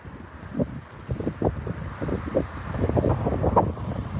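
Gusty wind buffeting a microphone outdoors during a walk, a continuous low rumble with repeated swelling gusts throughout, no talk.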